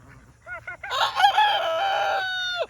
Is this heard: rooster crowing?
yes